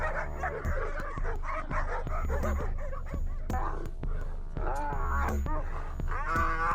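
Kangal farm dogs bark and yip excitedly as a pack while chasing a leopard near livestock, with overlapping close barks, whimpers and scuffling over a busy outdoor background.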